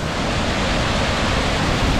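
A flooded Baritis river at Demati in Crete rushing past in full spate, a dense, steady roar of churning water with no pauses, loud and close.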